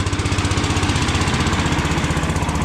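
A small welder generator engine pounds steadily and loudly under load while charging batteries, with a rapid, even thumping rhythm, laboring hard without pause.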